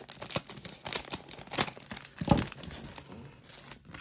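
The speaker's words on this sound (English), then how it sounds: "I will cut these open as well." Pikachu chocolate snack packaging is cut and torn open up close, giving scattered crinkles, crackles and sharp plastic snips in an otherwise quiet space.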